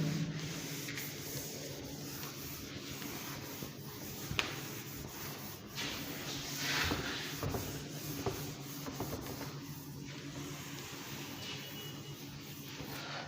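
Eraser rubbing writing off a classroom board during a physics lesson, a faint, steady scrubbing texture with soft swells around the middle, quiet room tone throughout.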